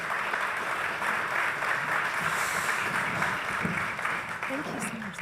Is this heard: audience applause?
yes